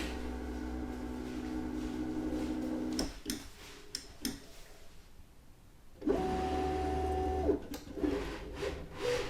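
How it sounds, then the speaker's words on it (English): A Loklik vinyl cutting machine cuts heat transfer vinyl, giving off a quiet, steady motor hum with a few soft ticks and clicks, then pausing and starting again for a second run of hum. "I'm going to hit start now and the machine will start cutting."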